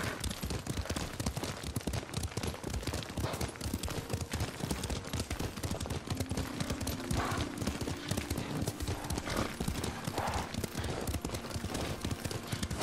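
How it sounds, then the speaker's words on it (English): A horse gallops through Ghost of Tsushima, its hooves clip-clopping in a quick, steady rhythm that continues throughout. A brief faint whinny rises midway. "Lord Sakai taught me to ride a horse."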